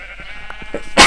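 Sheep bleat in a Minecraft survival game on Xbox One, a few soft short bleats building to one loud, close bleat at the end.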